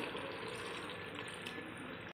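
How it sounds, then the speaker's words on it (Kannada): Water pours steadily into a cooking pot holding three glasses of rice for mushroom biryani, a continuous close splashing stream with no voices. "ಆರು ಗ್ಲಾಸ್ ನೀರು ಹಾಕ್ಕೊತಾಯಿದ್ದೀನಿ"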